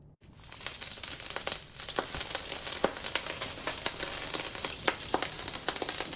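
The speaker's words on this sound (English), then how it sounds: "Is that the sound of someone frying sausages or the house burning down?" Steady sizzling and crackling like sausages frying, from the game Lord of the Rings: Return to Moria, a fairly loud, continuous hiss scattered with sharp pops and snaps, heard alone without speech.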